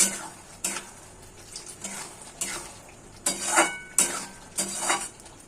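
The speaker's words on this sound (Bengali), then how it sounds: "আমি একটু মশলাটার সঙ্গে জলটা নেড়ে ছেড়ে দিলাম" Spoon stirring spice masala with water in a metal pan for Bengali egg curry, with repeated scraping strokes and wet swishing plus sharp clinks against the pan at an irregular pace, close and fairly loud, no talking.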